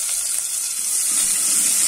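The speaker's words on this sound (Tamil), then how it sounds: "நான் மீடியம் சைஸ் வெங்காயம் ரெண்டு கட் பண்ணி வச்சிருக்கேன் அதை போடலாம்" Chopped medium onions drop into hot oil with popped mustard seeds, giving a steady, bright hiss of sizzling that runs evenly throughout.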